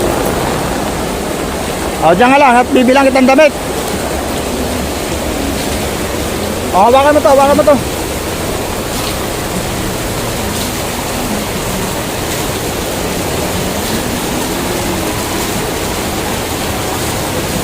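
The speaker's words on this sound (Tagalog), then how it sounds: "Malakas ang ulan." Heavy rain roars as a steady, dense wash of noise throughout. People talk briefly close by, partly under shelter, in a Philippine street downpour.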